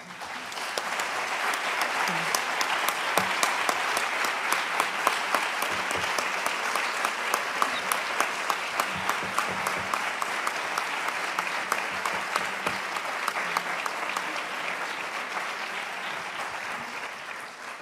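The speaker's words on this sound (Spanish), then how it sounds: "solo oyendo los aplausos eh, y lo largos que han sido" Long sustained applause from a conference audience after a talk at an international symposium on female genital mutilation, many hands clapping in a dense, even stream that holds for nearly twenty seconds, with a few voices murmuring underneath.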